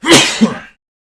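A single loud sneeze close up, a sharp burst of breath that cuts off quickly into silence.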